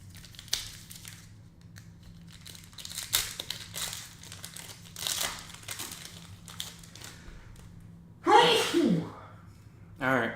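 A single sharp human sneeze bursts out near the end, preceded by soft crinkling and rustling of trading card packs during a baseball card break.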